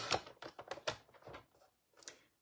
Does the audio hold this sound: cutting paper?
yes